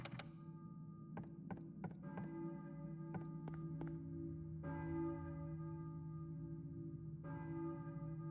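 Church bell tolling in the Silent Hill video game, a series of faint metallic strikes with lingering ringing tones and a few duller thunks between them, sounding distant and hollow, with no talking.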